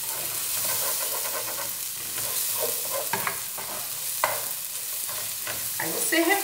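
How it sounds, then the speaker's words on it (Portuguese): Rice sautéing in a hot pan with oil, a steady sizzle and hiss running throughout, broken by scattered spoon scrapes and stirring clatters, close and alone with no voices. "Aí você refoga, aquele costumezinho de dar uma fritadinha, uma secadinha"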